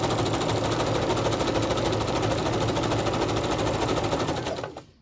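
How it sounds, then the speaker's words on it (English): A sewing machine stitches down tucks in fabric, running in a steady, loud, fast mechanical rhythm that stops abruptly near the end. "you can turn your volume down if you don't like the sewing machine"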